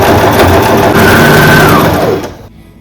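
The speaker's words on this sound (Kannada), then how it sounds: "ಎಡ್ಜ್ ಸ್ಟಿಚ್ ಮಾಡ್ತಿದ್ದೀನಿ." Sewing machine running steadily while edge stitching a princess-cut blouse, a close continuous whir that cuts off near the end.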